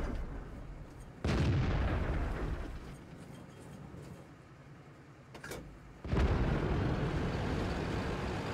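In World of Tanks, the 59-Patton tank's cannon fires two loud, booming shots several seconds apart. Each blast hits sharply and rumbles away over quieter battlefield background.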